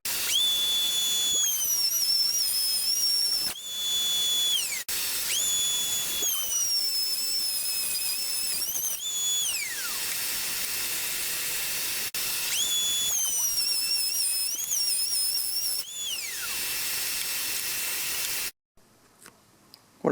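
A power saw cutting wooden boards into legs for a tool cart, a loud, steady high whine that dips in pitch as each cut bites and rises again between cuts, repeating several times before stopping.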